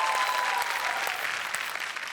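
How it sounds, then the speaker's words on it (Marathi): Loud, steady audience applause from a studio crowd at a Marathi TV comedy show, welcoming a veteran actor onto the stage; dense clapping sustained throughout, slightly easing toward the end, with no voices over it. "जोरदार टाळ्या सरांसाठी."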